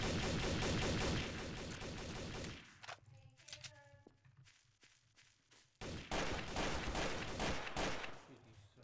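Rapid bursts of gunfire in the Gmod Trouble in Terrorist Town video game, a dense volley at first, then a quieter pause with a few isolated shots and clicks before heavy firing resumes.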